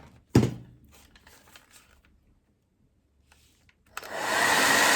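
A hair dryer drying a reverse-decoupage glass plate switches on near the end, a loud, steady close blowing roar that follows a sharp knock and a few quiet handling sounds.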